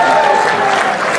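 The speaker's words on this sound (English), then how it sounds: "you can give a round of applause." A gala crowd breaks into a short burst of applause, dense clapping filling the room for about a second, close and steady with no speech over it.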